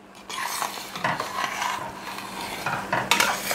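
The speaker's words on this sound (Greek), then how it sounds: "Ανακατεύουμε." A spoon stirs a pot of Greek cherry spoon sweet syrup just after lemon juice and vanilla go in, giving a steady close scraping swish with a few louder strokes.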